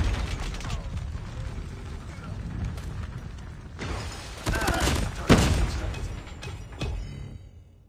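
Gunfire from the M13 assault rifle in the mobile shooter Call of Duty Mobile, bursts of rapid shots with sharp pops and thuds over busy game sounds, loudest in the middle and fading out at the end.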